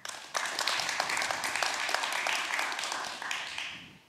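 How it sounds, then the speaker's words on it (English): A theatre audience bursts into applause for North Dakota, a dense burst of clapping that starts abruptly, holds steady for about three seconds and tapers off. "Applaud for North Dakota."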